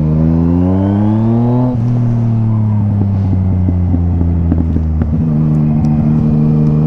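A Yamaha MT-09 motorcycle engine rides close and loud, its tone shifting as it revs through gears, with rising and falling pitch, brief clicks and a sustained roar throughout.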